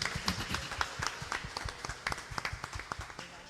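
A church congregation claps together in a quick, steady rhythm, the many hands blending into a fairly soft, even patter that carries on without a pause throughout.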